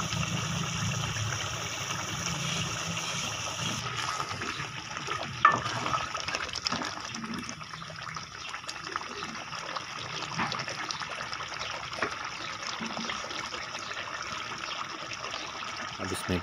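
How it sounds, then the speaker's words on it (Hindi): Water trickles and gushes into a pan of green chickpea curry, a soft continuous pouring under kitchen sounds, with a voice talking over it. "अब इसमें पानी डाल देंगे।"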